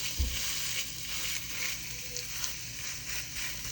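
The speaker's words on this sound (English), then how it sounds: "Grab a little piece and we fry it up" A small piece of peanut butter and jelly meatloaf mixture fries in a pan, giving a steady, fairly quiet sizzle and crackle throughout with a soft thump near the start.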